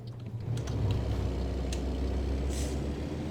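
Heavy truck in American Truck Simulator braking, a sustained low engine drone with a hissing air-brake burst midway, loud and steady throughout with no talk.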